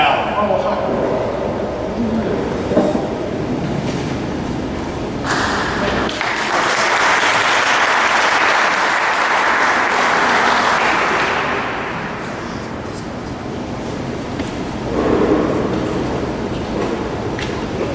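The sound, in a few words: audience applause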